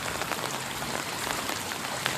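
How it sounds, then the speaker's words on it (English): Heavy rain pours steadily onto the ground and surfaces outdoors around a hillside garden with strawberry beds, a dense, continuous hiss with scattered louder drops and no talking. "A lot of rain."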